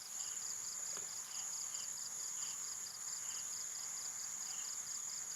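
Crickets chirp outdoors in a steady, rapid pulsing drone that continues without a break, faint and alone with no voices.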